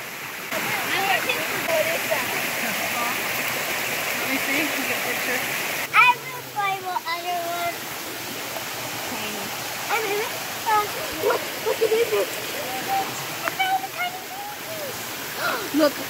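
Sticky waterfall pouring steadily with a constant rushing, splashing wash, close by, while children and adults talk over it.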